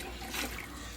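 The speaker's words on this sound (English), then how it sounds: "With that, I'm gonna add 2 cans of chicken stock." Canned chicken stock pours into a pot of boiling water for chicken soup, a brief close splashing, gurgling stream heard on its own for about a second.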